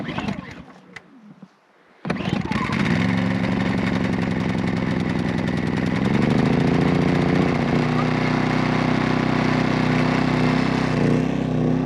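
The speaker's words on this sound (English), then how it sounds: "So he's got a little bit of a rattle on the muffler" Small engine started after a pull, then running loud and steady with a rattling muffler whose spark arrestor band clamp is loose, a quick rev partway through, after a few seconds of quiet.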